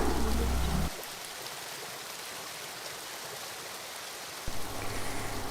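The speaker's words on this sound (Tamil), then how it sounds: "இதுதான் அந்த ஃபால்ஸ்" Mekkarai Falls, a waterfall: a broad, continuous rushing roar that is loud at first, drops to a thinner steady wash for a few seconds, then swells again.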